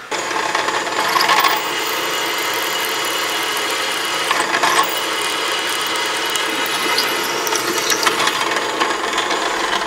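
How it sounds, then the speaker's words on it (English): A loud, continuous power drill grinds and whines through aluminum for several seconds, boring a 1/4-inch hole, with no voices. "I have a 1/4-inch bit, drill a 1/4-inch hole."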